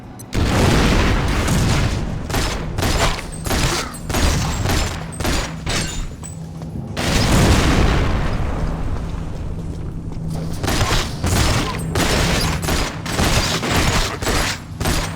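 Pistol fire and heavy explosions in GoldenEye: Rogue Agent, with a rapid string of loud sharp shots and booming blasts across the whole stretch, a big detonation near the middle rolling off before firing resumes.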